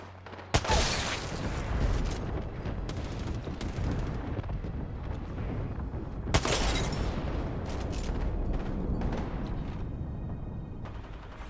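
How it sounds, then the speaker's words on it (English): Airstrike explosions in Apex Legends: heavy booms and blasts, with sharp impacts near the start and again midway, over a continuous rumbling roar of battle noise throughout. "Signaling an airstrike."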